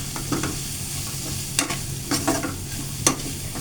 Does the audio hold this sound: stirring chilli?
yes